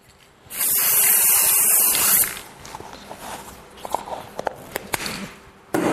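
A loud can of spray adhesive hisses steadily for about two seconds during screen printing setup, followed by soft handling clicks and rustles nearby.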